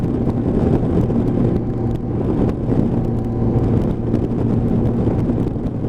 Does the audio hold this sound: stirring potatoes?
no